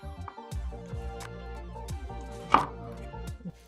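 Knife slicing a lime on a cutting board for a Thai bamboo-shoot stuffing paste, with a couple of soft cuts and one sharper, louder chop near the end over light kitchen background.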